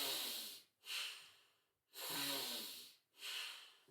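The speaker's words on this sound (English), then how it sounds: "we are breathing in through the nose and out through the nose, making sound. You also hear your breath." Tummo breathing in and out through the nose: four close, forceful, hissing breaths in a regular rhythm, each separated by a brief pause.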